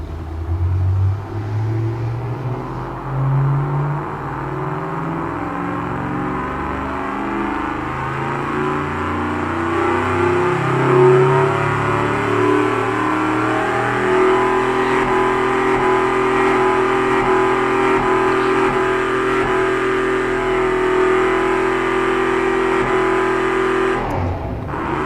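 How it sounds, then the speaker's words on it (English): A car engine is revved slowly, its pitch climbing steadily as the throttle opens, a loud, close, continuous rumble with rising harmonic tones that holds high before cutting off near the end. "Now we're gonna slowly rev the engine up a little bit, and I want you guys to listen as we're increasing the throttle, how the sound of the engine changes."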